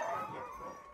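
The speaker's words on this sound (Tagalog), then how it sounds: "ito yung mga huskies namin" Sled huskies in Lapland, Finland bark and howl together in a brief, fairly faint chorus of overlapping cries.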